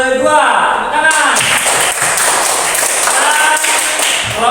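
A class of students claps for the second-place group in a classroom, a dense burst of hands between short stretches of a teacher's voice at the start and end.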